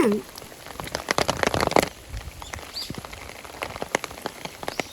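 A downpour falls at Suwa Shrine, close and loud, with a busy crackle of drops striking nearby surfaces and irregular heavier splatters over a constant wash of rain.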